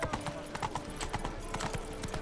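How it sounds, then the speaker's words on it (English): Horse hooves clip-clop steadily in a video game, close and regular, against a busy background of ambient noise with a low tonal hum. "What an awfully ill-behaved horse, I must say."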